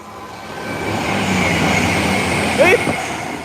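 An engineering train runs through Nuneaton Station with a steady rumbling roar, a brief wheel squeal near the end, and voices faintly in the background.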